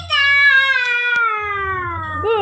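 A cat meow from a toy or picture book: one long, drawn-out meow that slides steadily down in pitch, loud and close, with a faint low murmur in the background.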